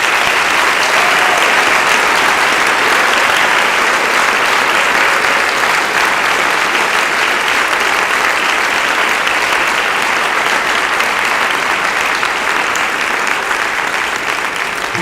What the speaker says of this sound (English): Let's give this amazing group of seniors one final round of applause.